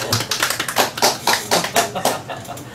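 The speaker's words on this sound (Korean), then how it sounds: "오늘 우리 김선민 성도님께서 방언 받으셨습니다. 박수 좀 주세요." A church congregation applauds a member, giving a quick burst of rhythmic, fairly close clapping that fades slightly toward the end.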